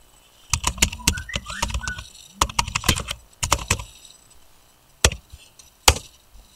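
Fast clattering keystrokes on a computer keyboard come in quick bursts with brief pauses, crisp and close, ending in a few single taps.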